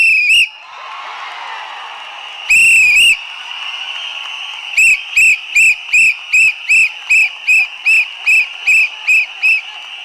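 A shrill whistle representing the TVK party symbol is blown, first in a long blast, then a second long blast, then a rapid string of about fourteen short sharp toots, loud and close.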